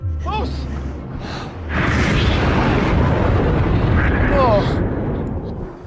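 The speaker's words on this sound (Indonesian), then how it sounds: "Alhasil, ledakan besar pun terjadi." A big explosion in a film erupts into a sustained, rumbling roar after a moment of quieter sound, with faint whooshing and cries over the blast.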